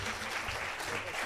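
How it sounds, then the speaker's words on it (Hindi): Audience applause at a Hindi poetry recital, a kavi sammelan in Delhi, with steady dense clapping filling the whole short moment at a fairly low level. "एक बार तालियों की गूंज दोनों हाथ उठाकर देते रहिएगा।"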